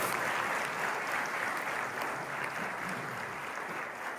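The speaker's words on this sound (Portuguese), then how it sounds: "Dê uma forte salva de palmas para essa mulher." A congregation applauds a woman at a church service, a dense, steady wash of clapping that holds at an even level from start to finish with no voices on top.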